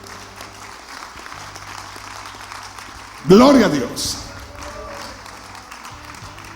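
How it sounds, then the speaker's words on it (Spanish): A church congregation during a Sunday service applauds, a soft spread of clapping under a low hum, interrupted midway by a loud, tonal exclamation from a voice before the clapping continues. "Dale un aplauso al Señor con todo tu corazón."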